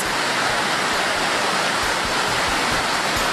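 Rushing floodwater of the Marikina River running above 12 meters, a steady, loud, broadband roar that continues without a break and with no voices over it.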